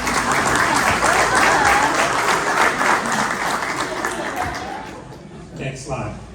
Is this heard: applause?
yes